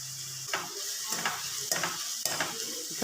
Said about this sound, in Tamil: இப்போ அதை நல்லா மிக்ஸ் பண்ணி விட்டுக்கலாம்.